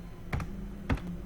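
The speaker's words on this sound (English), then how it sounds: "I should type National Institute" Two short clusters of key clicks on a computer keyboard, quiet and close, separated by a brief pause, with no voices.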